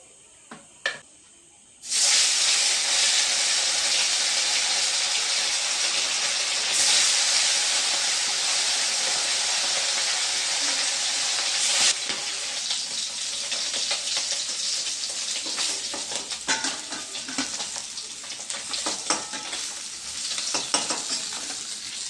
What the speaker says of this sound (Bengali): পুরো মাছটা আমার ভাজা কমপ্লিট হয়ে গেছে